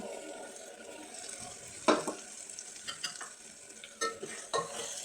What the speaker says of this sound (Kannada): ಮಸಾಲೆ ಕೂಡ ಚೆನ್ನಾಗಿ ಎಣ್ಣೆಯಲ್ಲಿ ಫ್ರೈ ಆಗಿ ಎಣ್ಣೆ ಬಿಡೋವರೆಗೂ ಚೆನ್ನಾಗಿ ಫ್ರೈ ಮಾಡ್ಕೊಬೇಕಾಗತ್ತೆ